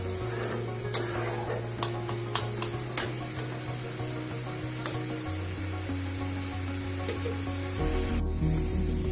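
Lentils (dal) frying with spices in a pan, a steady soft sizzle broken by scattered clicks and scrapes of stirring against the pan, close up with no one talking.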